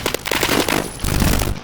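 Rapid gunfire in Roblox Phantom Forces, bursts of sharp cracking shots in quick succession, loud and fairly close, with a fuller burst near the end.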